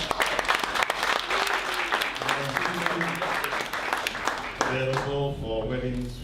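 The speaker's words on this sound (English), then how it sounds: "I want to begin by just giving some hearty round of applause to our caterers." Loud, dense applause from a crowd, with scattered voices and some tonal sounds rising beneath it toward the end.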